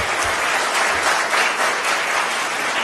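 An audience at a formal event in Pakistan with the Prime Minister present applauds steadily, a dense loud clapping that fills the whole moment without speech.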